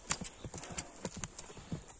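A large horse's hooves clip-clop in a quick, uneven string of sharp knocks close by, sounding on their own with no speech.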